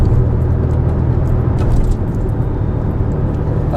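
Porsche Boxster cruising at a steady 40 mph on the road, a constant low engine drone and tyre rumble heard from inside the cabin, with no talking.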